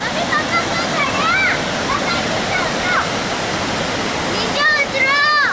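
Rushing water of the Saraswati river near Mana village in the Himalayas, a steady loud roar running throughout, with people talking and calling out over it.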